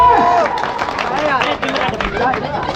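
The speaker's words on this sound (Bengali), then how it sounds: "হাততালি এই দুজনের জন্য" Clapping and crowd noise from the audience at a village football tournament prize ceremony, heard under an announcer's voice that continues throughout.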